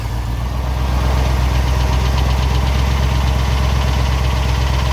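A car engine idles loudly and close right after cranking, a steady low rumble with a slight uneven knock, running alone without talk.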